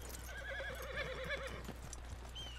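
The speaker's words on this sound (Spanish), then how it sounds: "aquí está mi caballo, miren" A horse in the video game Red Dead Redemption 2 lets out one wavering neigh of about a second and a half, close and moderately loud over a steady low background hum.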